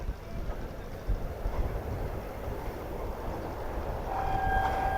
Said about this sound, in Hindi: अब ट्रैक पर आ रही है 11 अप